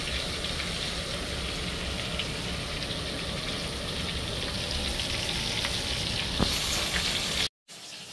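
A pork chop fries in a pan with a steady, dense sizzle and crackle that stays close and even throughout, briefly cutting out near the end, with no talking.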